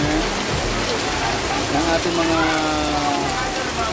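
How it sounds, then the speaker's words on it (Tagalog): Heavy rain pours down on a road in the Philippines, a dense and steady hiss throughout, with a voice speaking briefly over it. "Nakita niyo po ang lakas ng ulan"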